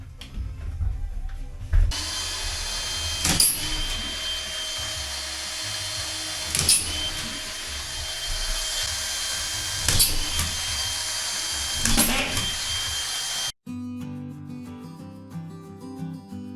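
A power drill runs steadily during drywall installation in a house under construction, a loud continuous whine with sharp clicks about every three seconds, stopping near the end when music takes over.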